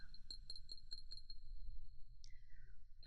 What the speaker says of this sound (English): I really like this when it comes to glass tapping.